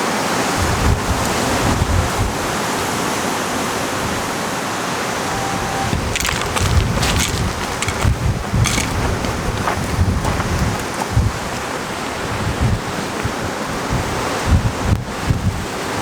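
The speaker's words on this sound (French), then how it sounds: "Énormément de vent." Strong wind gusting outdoors on a mountain hiking trail in the Verdon gorge, a steady roaring rush with buffeting bursts against the microphone throughout.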